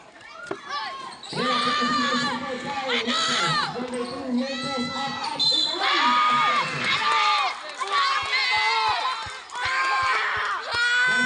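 A crowd at a local basketball game shouting and cheering loudly and continuously, with a commentator's voice and repeated ball bounces on the court beneath the noise.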